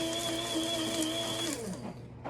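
A grinder whirs steadily as it turns dog food ingredients into powder, its motor holding a constant tonal hum before winding down near the end, with no voices.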